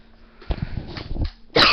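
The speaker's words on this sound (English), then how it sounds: "I'm coughing in everybody's ear tonight" A person coughs a few times in a short, rough burst, close to the microphone, ending with a loud breathy blast.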